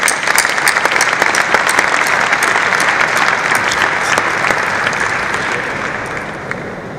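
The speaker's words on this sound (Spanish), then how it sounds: "Un aplauso." Loud, continuous applause from a conference audience at an industry keynote, many hands clapping steadily throughout and tapering slightly toward the end, with no talking.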